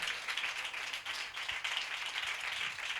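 A congregation claps at a church sermon, a steady wash of many hands beating together, continuous and evenly loud throughout with no voices on top.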